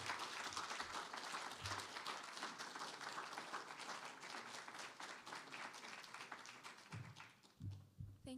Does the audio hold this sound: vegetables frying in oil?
no